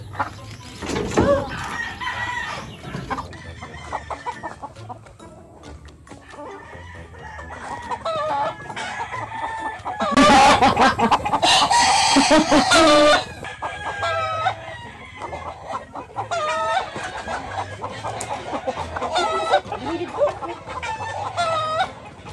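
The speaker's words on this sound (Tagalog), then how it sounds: "Kailangan pa nating mahuli yung manok." Chickens cluck and a rooster crows repeatedly, close and fairly loud, with a burst of flapping and squawking in the middle as a bird is chased; brief voices occasionally underneath.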